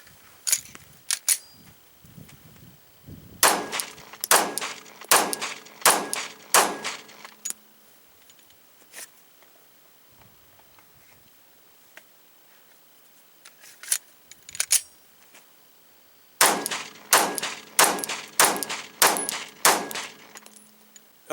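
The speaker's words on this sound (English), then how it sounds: "So 5 rounds of Perfecta 115 grain Italian ammo out of the KCI Korean Glock magazine." A Glock pistol fires five rounds of Perfecta 115 grain Italian ammunition from a KCI Korean magazine, sharp cracks with ringing echoes in separate bursts across the clip, with no talk.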